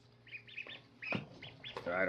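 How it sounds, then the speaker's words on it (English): Several wild ducks, mallard-type, give repeated short nasal quacks in quick bursts, fairly close and moderately loud against faint background noise. "I think they're more like mallards."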